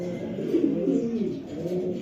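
A racing pigeon, a short-tailed long-distance bird, cooing close by in soft, throaty, rolling low notes that swell and fade over a couple of seconds.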